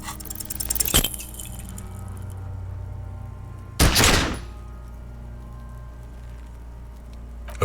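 Two sharp, loud gunshots in the video game Disco Elysium, the first near the one-second mark and a longer, heavier blast around four seconds, separated by a low ambient hum.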